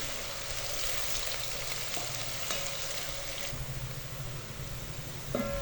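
Sliced onions fry in ghee with a dense, steady sizzle that runs the whole time. Faint stirring clinks come through now and then, and no one speaks.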